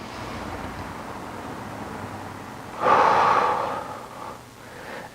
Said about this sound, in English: Just breathe in through the nose and then exhale.